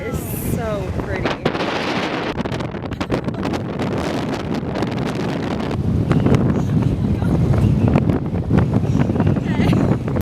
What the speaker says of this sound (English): it was like so insanely windy that we couldn't even open the car doors